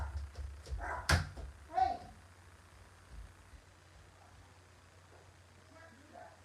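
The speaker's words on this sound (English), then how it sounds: "My little dog is not going to stop barking." A small dog barks indoors, a couple of sharp nearby yaps early on before fading to quiet room noise, with a person shouting briefly over it.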